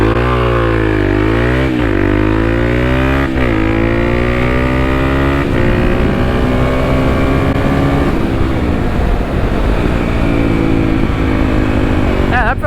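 Kawasaki KLX300 dual-sport motorcycle, fitted with modifications, accelerating hard from first gear on a 0-60 mph run, its engine note climbing steeply through repeated gear changes, loud and close, continuous throughout.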